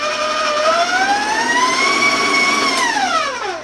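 Stand mixer with a paddle blending spice bar dough with raisins or nuts, a steady motor whine that rises in pitch, holds, then drops as it slows, running alone and close.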